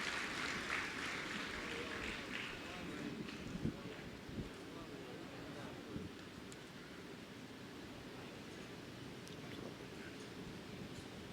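Applause from a kavi sammelan audience at a Ramkatha gathering in Faridabad, a faint, continuous wash of clapping with wind-like noise that carries on steadily throughout.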